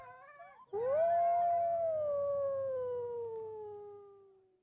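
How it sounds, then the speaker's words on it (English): A lone wolf howls in the wild with one long, clear, sustained note that slowly falls and fades, preceded by a brief higher yelp, with no talking. "There were wolves nearby, and they were howling loudly."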